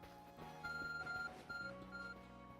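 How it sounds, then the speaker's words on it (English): A phone in Pokémon Legends Arceus gives a series of short, clean electronic beeps in a quick uneven pattern, fairly quiet against soft background game music. "Your phone is beeping."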